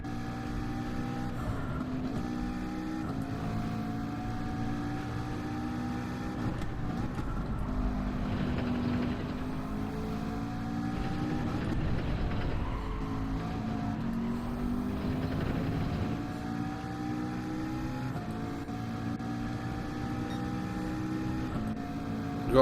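Racing cars lap a track at Austria with a GTR close behind, their engines droning continuously at moderate volume, pitch rising and falling through gear changes with no talking.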